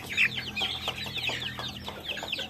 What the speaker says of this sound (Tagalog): Mga 2 weeks old or day old lang na Rhode Island Red yung binibenta ko.